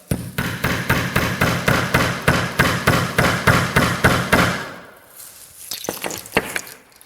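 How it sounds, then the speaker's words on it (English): Steady, evenly spaced hammer blows strike a nail about a dozen times in a firm rhythm, followed by a few lighter, scattered taps, as a nail is hammered into a painting. "take a nail, take the hammer, and finish the painting"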